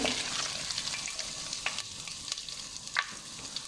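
Ginger garlic paste frying in hot oil in a pan, with a soft, steady sizzle and occasional faint crackles and spoon scrapes, heard up close without talk.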